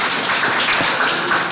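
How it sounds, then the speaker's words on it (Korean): Audience applause at a Korean poetry recitation award ceremony, a dense, steady wash of many hands clapping, loud and close throughout with no talking. "박수 한번 치시죠."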